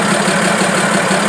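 A Fiat 190 tractor's diesel engine idles steadily and loudly up close just after starting, a constant low rumbling drone with no talk over it.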